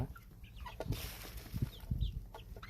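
Several short, low clucks from Cheonggye chickens close by, scattered irregularly over a steady background hum, with a few faint higher chirps.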